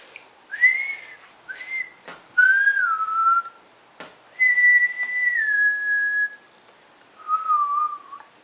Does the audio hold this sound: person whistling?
yes